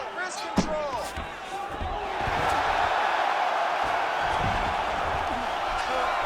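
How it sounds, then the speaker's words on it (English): A virtual arena crowd in the UFC 5 fighting game swells into a loud, sustained roar as the fighters get back to their feet. A sharp thud and commentary come first, then the cheering holds steady to the end. "big pop from the crowd as they get back to their feet"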